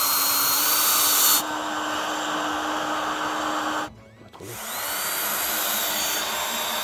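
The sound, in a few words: power drill screwing counter-rafter onto roof boards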